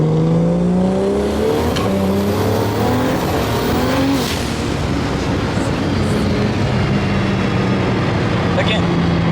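A Mazda FD RX-7 with a turbocharged rotary engine pulls hard through its gears, a loud, steady engine drone rising and dropping in pitch with each short shift, heard from inside the car with voices talking over it.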